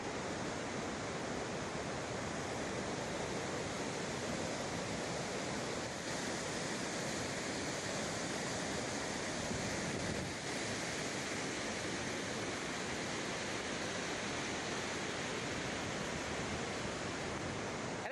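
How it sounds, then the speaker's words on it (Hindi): The Sutlej river near Rampur Bushahr in Himachal Pradesh surges past in a dense, unbroken roar of rushing water that stays loud and steady throughout, with no voices. "Sutlej is a very violent river but at the same time so beautiful also"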